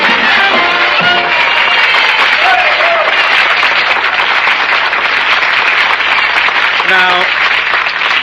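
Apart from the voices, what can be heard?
studio audience applauding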